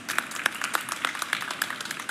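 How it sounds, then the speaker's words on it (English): A keynote audience at IFA Berlin, a consumer electronics trade show, applauds with steady, dense clapping. Some claps stand out sharply above the crowd noise, and a faint voice can be heard underneath. "Round of applause for her,"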